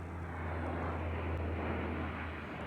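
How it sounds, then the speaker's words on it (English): An airplane drones steadily overhead near an airport, a continuous broadband engine roar holding level throughout with no talk. "Lots of airplanes around here."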